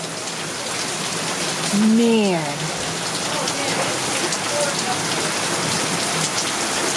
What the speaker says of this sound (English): It is raining so much heavier now